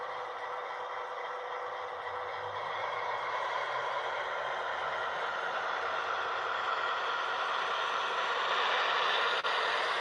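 A steady, continuous mechanical hum and whir from an MTH D-9 NS 9250 model train locomotive running along a layout, fairly constant and unbroken throughout.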